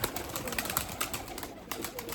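Erzurum white breeding pigeons coo softly in a loft, low burbling calls under a steady wash of broadband noise, with no voices.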